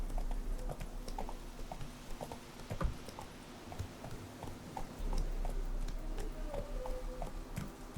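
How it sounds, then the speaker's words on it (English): Horse hooves clip-clop at a steady trot in the video game The Witcher 3, quiet and close, with soft ambient game sounds underneath. "Whoa there, Roach"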